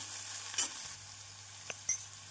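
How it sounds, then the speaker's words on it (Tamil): Faint sizzling and soft stirring in a pan, with a low steady hum underneath and a couple of brief scraping clatters. "வெங்காயம் இந்த அளவு நன்றாக வதங்கவும்"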